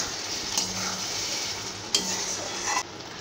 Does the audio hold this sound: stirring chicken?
yes